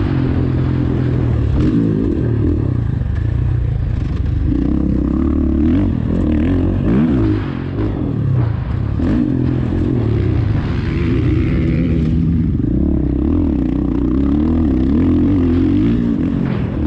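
A supermoto motorcycle engine drones loudly and steadily on a night dirt-bike ride, its pitch rising and falling as the throttle opens and eases, heard up close throughout.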